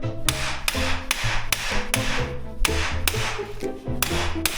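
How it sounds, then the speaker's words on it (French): Hammer blows on an SKF bearing during a repair, ringing out in a steady run of about ten sharp metallic strikes roughly half a second apart, each with a brief tonal ring, close and loud with no talk. "j'ai quand même dû prendre le marteau"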